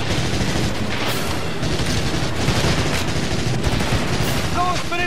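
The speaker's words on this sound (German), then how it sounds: "Endlich dürfen wir mal wieder mit Maschinengewehr ballern." Dense, continuous machine gun fire in the PS2 video game Medal of Honor: European Assault, rattling bursts layered with booms and battle noise, loud and sustained throughout.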